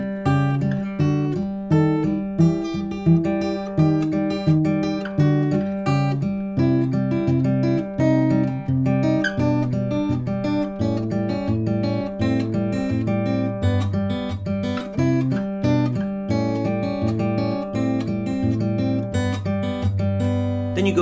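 Acoustic guitar fingerpicking part B of a song, bright plucked notes over a steady thumb pattern on the low strings, played alone and clearly at a moderate, even pace throughout.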